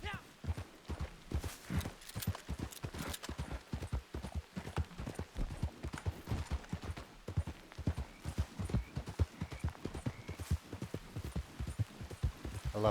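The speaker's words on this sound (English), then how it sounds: "Get on the horse." In Red Dead Redemption 2, horse hooves clip-clop in a steady, rapid rhythm of close, distinct thuds that continue throughout, with occasional voices speaking over the game sound.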